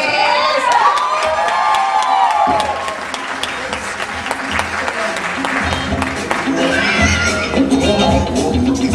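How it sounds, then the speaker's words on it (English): Audience at a NOCS performance event applauds and cheers loudly, a dense sustained wash of clapping with shouts and whoops throughout, swelling again near the end. "So now, a round of applause, Esmee."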